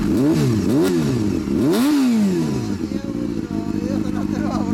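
A 1990 Honda CBR250RR MC22 with a generic aftermarket muffler revs hard several times, its high-pitched four-cylinder wail rising and falling in quick blips before settling into a steady fast idle, loud and close.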